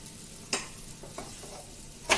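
Moong dal mixture with chana sattu being stirred and roasted in oil in a kadhai for dal poori, soft background sizzle with three distinct scraping strokes of a spatula, close and fairly quiet.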